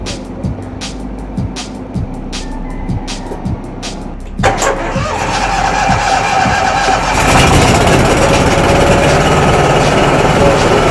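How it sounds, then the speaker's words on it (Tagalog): A fire truck engine cranks with rapid clicking, catches, then settles into a steady loud rumbling idle that grows fuller and stays running. "buksan natin ang makina natin."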